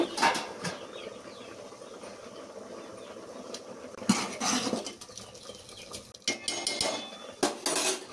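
Metal pot lid lifted off a pot of cucumber dal (dosakaya pappu) cooking on the stove, with a few sharp clinks and clatters of cookware near the end, after a quieter stretch of soft kitchen background noise.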